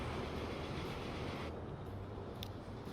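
A small train with a few added cars runs along the track in the Transport Fever 2 video game, a steady low rumbling and rushing noise, continuous and fairly faint, with no talk.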